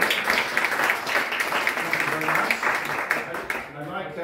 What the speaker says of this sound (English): You can all give yourselves a round of applause if you like